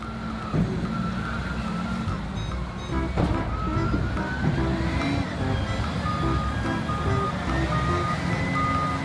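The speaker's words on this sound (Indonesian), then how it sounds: "Forklift." A toy forklift sounds steady electronic reversing beeps over a continuous motor whir, moderately loud and unbroken for the whole stretch.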